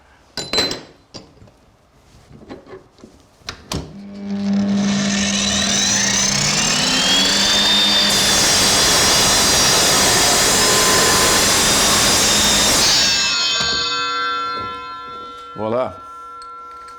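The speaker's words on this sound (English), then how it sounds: "what's great about cutting threaded bar with an Evolution saw is the threads won't be damaged" An Evolution saw cuts through zinc-plated threaded bar, rising to a loud, sustained, high metallic grinding screech for about ten seconds before winding down, with a few clanks and handling knocks before and after.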